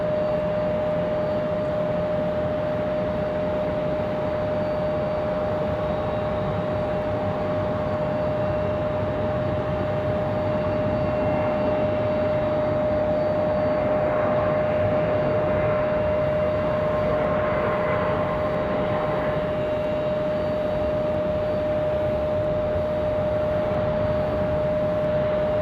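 A JetBlue airliner arriving at Raleigh-Durham International, an A320 rolling toward the gate, gives a steady broadband engine roar with a persistent high whine, holding loud and even throughout with no talk.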